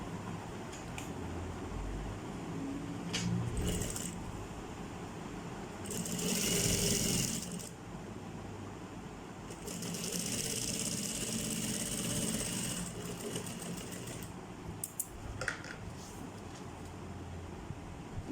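Sewing machine stitching a zip onto a crochet bag, running in several bursts of rapid whirring with short pauses between, close and fairly quiet.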